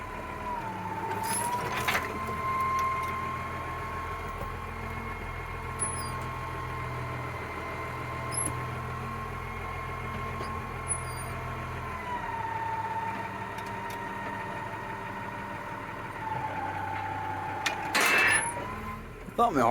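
A favourite farm tractor's engine idles steadily during second-cut silage work with a bale lifter, a constant low rumble running throughout with a few brief clanks and knocks near the end.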